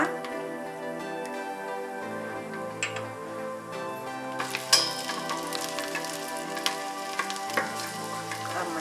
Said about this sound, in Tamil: பூண்டு சேர்த்து இப்போ நல்லா பொரிய ஆரம்பிச்சுட்டு